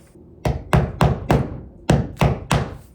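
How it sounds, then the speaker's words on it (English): Hammer driving nails into a wooden shed frame with short choked-up strokes: seven sharp, close, loud whacks in an uneven rhythm, each ringing briefly before the next. "I'm really choking up on this hammer using short strokes"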